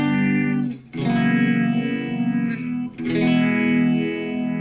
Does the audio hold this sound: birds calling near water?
no